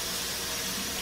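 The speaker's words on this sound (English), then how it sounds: "Let me wash my hands." Hands being washed under a running kitchen tap while cooking steak and fries, a steady broadband splashing hiss of water that holds evenly for the whole second, close and fairly soft with no talking.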